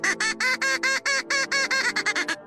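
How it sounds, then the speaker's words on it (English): Mallard duck calls from an Alaska duck hunt: a close, loud run of about a dozen nasal quacks that speeds up and shortens toward the end, with no talking. "There's a "Hey baby, I'm here" call."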